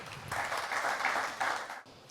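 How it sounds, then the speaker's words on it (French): A studio audience at a televised Haitian quiz show applauds steadily, with dense, sustained clapping that holds for nearly two seconds before cutting off abruptly. "je vous invite, mesdames et messieurs, à les applaudir,"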